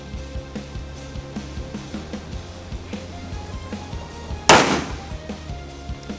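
A single sharp, loud gunshot from a Rock Island Armory TAC Ultra FS HC 1911 9mm pistol cracks out close by, then fades quickly into a quiet, steady background.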